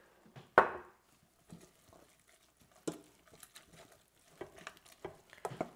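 Fish lasagne ingredients with cream heating in a pot on a grill, giving scattered soft pops, spits and crackles at an irregular pace, close and fairly quiet, with one sharper splat early on.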